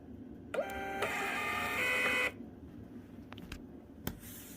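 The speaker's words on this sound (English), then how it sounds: "Got the label printer." Label printer feeding out a label, a short whirring mechanical run of under two seconds with a faint motor hum, followed by a few soft clicks and taps of handling in a quiet room.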